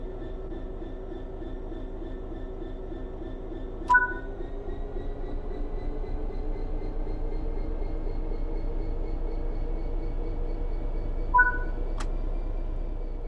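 In Train Sim World 3, a Class 66 locomotive pulls away with a steady low diesel drone that slowly rises in pitch, broken twice by short, sharp clicks from the cab.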